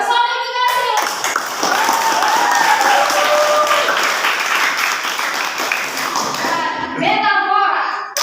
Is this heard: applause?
yes